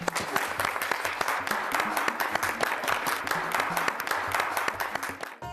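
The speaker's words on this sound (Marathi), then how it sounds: "जिंकलेल्या जोडीसाठी एकदा जोरदार टाळ्या होऊन जाऊ देत" A studio audience applauds the winning couple of a game on a Marathi TV serial: dense, sustained clapping from many hands, loud and even for several seconds.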